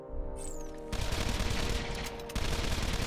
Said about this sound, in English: Fires in a quick 2-round burst, high damage, fire rate, and reload speed